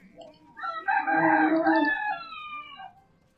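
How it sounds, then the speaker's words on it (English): A rooster crows outside in a city, one long loud drawn-out call with a rising and falling contour, heard up close and alone. "Thank you for that, Mr. Rooster."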